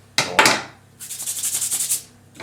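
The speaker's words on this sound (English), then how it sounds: "I like to grate my garlic here so the taste spreads all over already in the oven" A garlic clove is grated for baked feta pasta, two quick scraping strokes followed by a run of rapid, close rhythmic rasps, with no talking.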